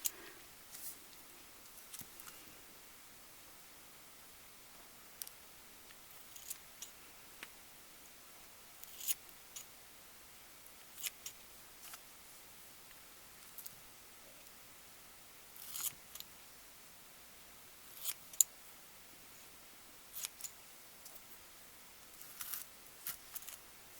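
Small scissors trim the hair of a candy angel Christmas ornament, producing faint, sparse snips scattered irregularly across a quiet background.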